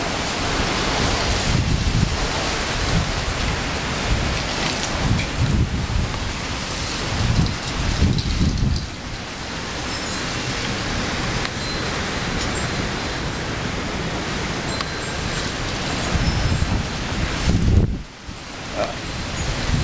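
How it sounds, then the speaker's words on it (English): Dust storm wind during Arizona monsoon season, a loud continuous broadband roar that surges and eases in gusts for the whole stretch, with no voices. "This is monsoon season in Arizona. Just a dust storm."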